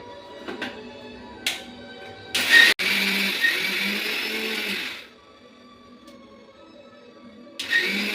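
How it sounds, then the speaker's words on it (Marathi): A mixer grinder powders sugar, with a few short clicks and pulses first, then a loud whirring run of about two and a half seconds. A quieter lull follows, and the motor starts again at the end. "तर मग मी इथे ना मिक्सरमध्ये बारीक करून घेते पटकन"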